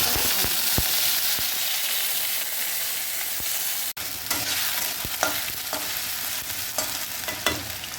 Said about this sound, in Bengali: তেল গরম হয়ে গেছে তো প্রথমে আমরা একটু কালো জিরে ফোড়ন দিচ্ছি